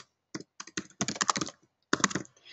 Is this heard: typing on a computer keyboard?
yes